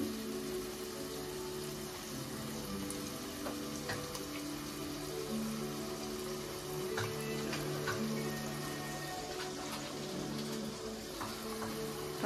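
Tomato puree sizzling and frying in a pan while chicken bhuna masala is cooked, a steady close hiss and crackle running throughout with faint clinks.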